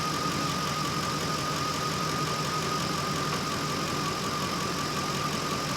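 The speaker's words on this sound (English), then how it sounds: "Surprisingly, it started right up after doing that fuel filter." Engine of a 2005 Ford F150 running steadily at idle right after a fuel filter change, a continuous close mechanical drone with a faint ticking knock, no voices.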